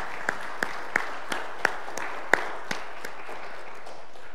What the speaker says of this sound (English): there's a big applause for our dear sister.